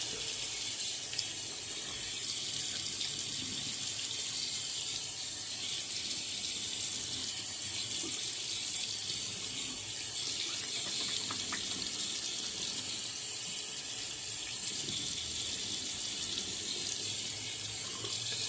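Tap water runs steadily into a sink while a face is rinsed after a shave with a brush and lather, a continuous hiss at moderate level with no talking.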